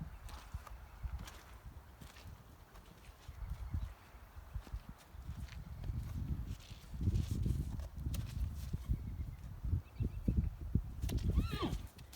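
Hooves clop steadily on a hard surface at close range, with rustling around them, and a horse whinnies briefly near the end.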